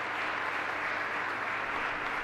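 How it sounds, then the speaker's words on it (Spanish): At a parish Mass the congregation gives a couple a round of applause, a steady, even patter of many hands that keeps going throughout with no talking over it. "Un fuerte aplauso para los dos."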